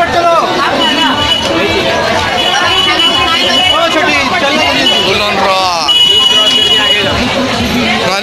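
Dense crowd chatter at a Navratri gathering, many overlapping voices forming a loud, continuous hubbub with occasional shouts and bright tonal bursts running throughout.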